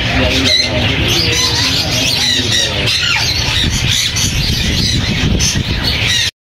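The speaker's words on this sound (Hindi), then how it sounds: "वाइट रिंग नेक के हमारे पास 2 अडल्ट पेयर मौजूद हैं" Adult white ring-necked parrots at a Sunday bird market in Bahawalpur squawk and screech loudly and continuously, many harsh calls overlapping close by amid a busy crowd of other birds, ending abruptly.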